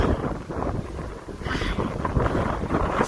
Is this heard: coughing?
no